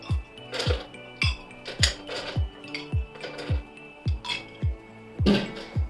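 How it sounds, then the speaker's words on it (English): Ice cubes clink and clatter into a tall glass holding a blue curacao cocktail mix, a rapid run of sharp, close knocks repeating roughly every half second with no talking. "top this up with some ice."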